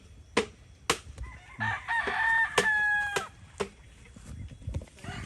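Roosters crow from stags at a large gamefowl farm in Arayat, one long crow standing out close by among sharp clicks and other, fainter crowing.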